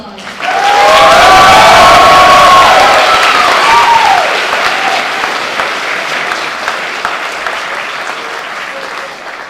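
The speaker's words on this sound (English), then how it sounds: "Let's give him a round of applause." A campus lecture audience at UCLA bursts into loud, dense applause and cheering that peaks early with shouts, then eases into steady clapping that slowly thins.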